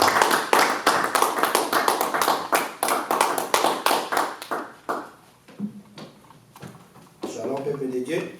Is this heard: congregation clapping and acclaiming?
yes